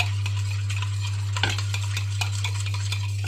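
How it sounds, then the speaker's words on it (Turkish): A spoon stirring hot water into onion dolma sauce filling in a bowl, soft scraping and clinks close by over a steady low hum, no talking. "Hemen bir tane kapalık içine sıcak suyla birlikte karıştıracağız"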